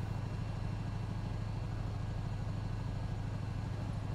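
In Euro Truck Simulator 2 with ProMods, a truck cruising on the M4 motorway gives off a faint, steady engine drone: a low, even hum with a pulsing rhythm and no breaks.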